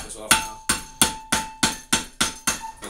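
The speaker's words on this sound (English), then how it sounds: "I'm going to use the back of a hammer handle to kind of tap this off now." Repeated taps of a hammer handle's butt end on an AO Smith pool pump motor part, knocking it loose to reach the bearings: eight sharp, evenly spaced knocks about every third of a second, close and loud, with a faint ringing tone between strikes.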